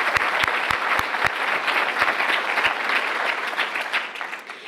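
An audience applauds the Office of Student Affairs team at a pharmacy school class ceremony, with steady, full clapping that holds through the whole stretch and thins slightly at the very end.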